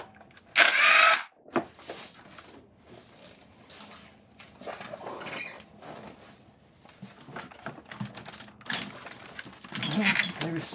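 A power tool briefly spins out a 10 mm bolt on a 2008 Acura MDX engine during cylinder head removal, one short loud burst near the start, followed by clinks, handling noise and talking.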